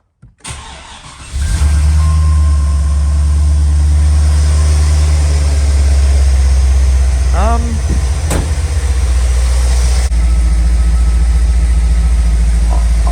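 An HSV Clubsport 5-litre car engine starts and settles into a steady, loud idle with a rough, puffing exhaust leak note that continues throughout.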